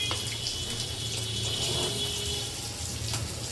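Warm water is poured over a block of paneer in a kitchen, a steady close splashing rush with a faint mechanical rattle underneath.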